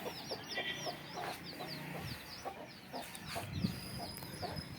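Domestic chickens kept on a house rooftop terrace cluck repeatedly in short, overlapping bursts, soft and somewhat distant, with a steady low background hum.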